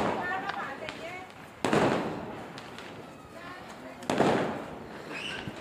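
Firecrackers at Diwali, with two loud bursts followed by crackling decay standing out over constant background chatter and voices.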